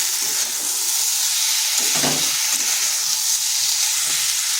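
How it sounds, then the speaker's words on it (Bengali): Pumpkin curry sautéing in a pan, a steady broadband sizzle of frying with soft stirring scrapes around the pan, close and constant with no talk. "এইভাবে এটাকে বেশ কিছুক্ষণ সময় ধরে কষে নিতে হবে।"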